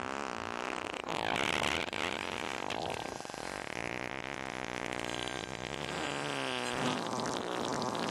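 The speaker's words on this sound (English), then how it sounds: "That wasn't a fart. That was just air leaving my butt." An animated movie fart from a cartoon superhero comedy, a long, loud, wavering blast of sputtering tones that keeps going for several seconds with shifting pitch and no talking over it.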